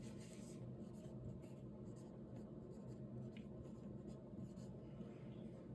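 A pen or pencil writes out a math problem in a soft, continuous scratching that runs steadily throughout, close but quiet, under a low background hum.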